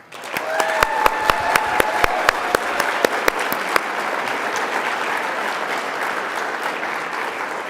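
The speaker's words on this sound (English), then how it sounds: "Let's give a round of applause for each of the communications" An awards-ceremony audience bursts into loud, sustained applause, with a few sharp claps standing out early on before the clapping settles into a steady wash that lasts to the end.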